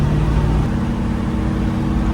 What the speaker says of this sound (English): Is that a burnout?